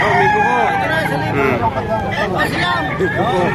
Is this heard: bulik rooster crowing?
yes